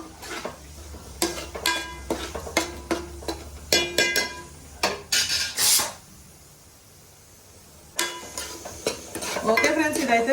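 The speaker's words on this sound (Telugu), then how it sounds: "అలాగే కరివేపాకు ఇదైతే బాగా పచ్చివాసన పోయే వరకు వేపుకుందామండి మనం" Curry leaves and green chillies frying in a pan for fish curry, heard as a soft sizzle under repeated loud scrapes and clinks of a spoon stirring against the metal, with a brief quiet gap before the stirring and sizzling resume.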